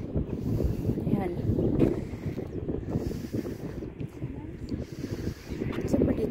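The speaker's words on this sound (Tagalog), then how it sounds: "Ang hangin nga, maginaw." Cold wind gusting across a microphone outdoors in the Netherlands, a steady broadband rush with buffeting swells throughout, while people talk faintly underneath.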